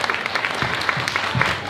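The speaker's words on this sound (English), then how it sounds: "Round of applause." A short burst of audience applause: close, steady clapping from a small crowd, lasting under two seconds.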